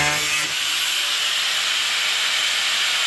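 A harsh, steady high-pitched grinding hiss of an angle grinder cutting a steel frame rail on a 1972 BMW 2002 continues without pause, loud and close.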